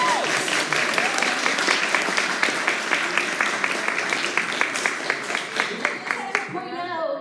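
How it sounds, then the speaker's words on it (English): A comic con panel audience claps and cheers, lively rhythmic applause with voices and whoops mixed in, tapering as someone begins talking at the end. "Give yourselves a round of applause."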